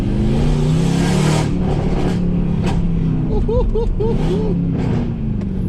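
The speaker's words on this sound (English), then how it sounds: "do you just hear this beast of a car" A tuned, fully straight-piped, catless Mercedes-AMG C63s drones loudly from inside the car while driving, swelling with revs as someone talks over the exhaust.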